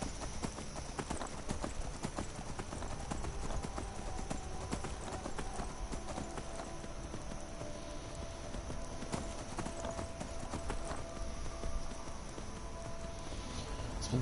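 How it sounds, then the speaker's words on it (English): Horse galloping in the video game Skyrim, a steady rapid clip-clop of hooves running continuously at moderate loudness with a constant background bed. "It's been so long since I've been on a horse in this game."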